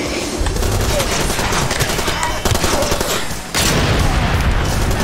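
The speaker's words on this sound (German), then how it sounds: "Ich habe gegen das Maschinengewehr geschossen." Gunfire aimed at a machine gun in the shooter game Far Cry 2: loud, dense, rapid bursts of automatic fire rattle almost without pause, with one brief lull before the shooting resumes.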